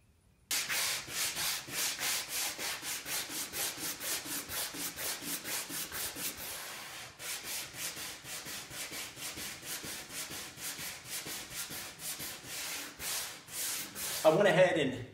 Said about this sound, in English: I went ahead and sanded everything down, so the basic shape has been done.